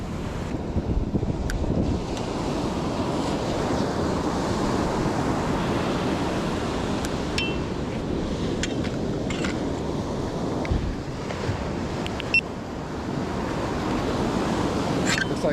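Ocean surf at a morning fishing beach, waves rolling and breaking continuously with a broad roar, mixed with gusty wind buffeting the microphone, steady throughout with no voices.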